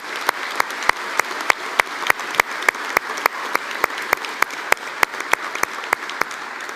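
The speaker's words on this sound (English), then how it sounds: "Please join me in a round of applause for them." A crowd applauds at a fall university convocation, with one nearby pair of hands striking sharp, evenly spaced claps above a continuous wash of clapping.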